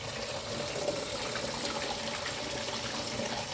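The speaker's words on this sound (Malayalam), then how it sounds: "ഞാനതിന് ഈ ഗോതമ്പ് പൊടിയൊക്കെ 2-3 പ്രാവശ്യം ഇട്ട് ഇങ്ങനെ കഴുകുന്നത്" Water running steadily while river fish are washed with wheat flour: a continuous close splashing, gushing flow like a running tap, constant in level throughout.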